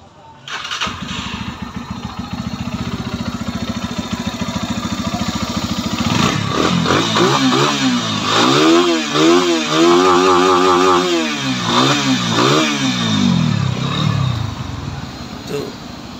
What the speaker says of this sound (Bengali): এই তো বাইকটির সাউন্ড শুনলেন